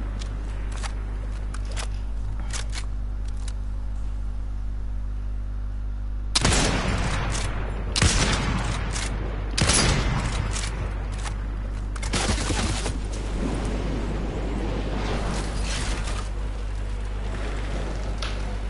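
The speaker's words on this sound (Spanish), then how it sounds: "Me pegó todos los tiros de Mario" Gunfire from the video game Fortnite: several bursts of rapid shots in clusters across the middle and end, loud and close, over a steady low in-game hum.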